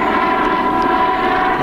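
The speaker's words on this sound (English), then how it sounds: "Army helicopter." An army helicopter passes overhead with a steady, loud rotor and engine roar that holds constant throughout, with no voices.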